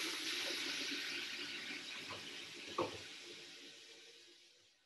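Water runs steadily from a tap while tomato seeds are rinsed in a container, a soft continuous splash with a small slosh near the end, no talking.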